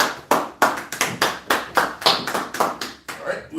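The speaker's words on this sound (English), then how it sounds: "Go ahead and clap it up." A congregation at a Sabbath service claps in a quick rhythmic pattern, about a dozen sharp, loud beats with short decays, close and clear, without talking.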